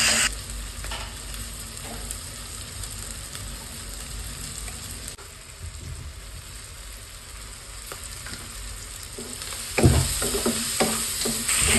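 White sauce penne pasta with red chilli flakes and Italian seasoning is stirred in a frying pan, a continuous close sizzle with soft scraping strokes and a louder clatter of utensil against pan toward the end.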